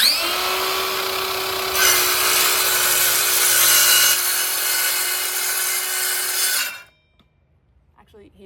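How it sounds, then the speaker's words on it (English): A circular saw runs loud and close with a steady whine while cutting a notch in wood for a cross-lap joint, rising in intensity partway through, then stopping abruptly and leaving near silence. "I don't wanna start my circular saw on the wood. I wanna back it up so that when I turn it on, it's not trying to like bite into the wood"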